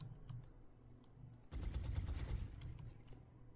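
Suppression fire in the video game XCOM: Enemy Within, starting with faint scattered shots, then a sudden loud sustained burst of rapid automatic gunfire that trails off.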